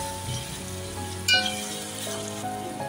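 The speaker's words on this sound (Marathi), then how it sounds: "आता छान परतवून घेऊया। लसणाचा जरा कच्चा वास जाईपर्यंत 2-3 मिनिटं परतवून घेऊया।" A green paste of ginger, garlic, chili and coriander sautés in a pan for chicken rassa, giving a steady close sizzle with a brief louder crackle burst partway through.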